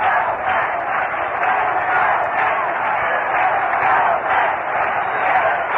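A baseball stadium crowd at a 1965 Mets versus Cardinals game roars in a continuous, thin, narrow-band wash of cheering, swelling and easing slightly throughout.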